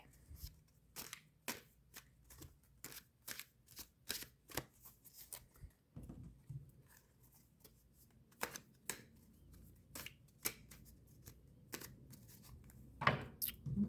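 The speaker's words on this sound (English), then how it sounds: "we'll go ahead and shuffle a bit more" Tarot cards riffle and snap in quick bursts, a steady run of crisp shuffles close by with short pauses between.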